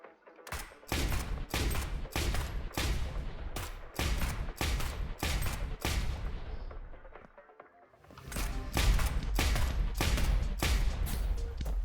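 A weapon in the game Neon Abyss fires in bursts of sharp rapid shots at a rather slow cadence. A lull follows, then a dense, loud stretch of continuous firing, with no speech.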